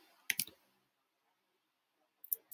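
Two sharp computer mouse clicks, one near the start and another near the end, separated by silence, close and crisp.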